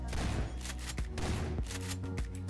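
Shotgun from a realistic Half-Life 2 weapons mod in Garry's Mod, several loud, close blasts in quick succession, each with a sharp crack and booming tail, alone without talk.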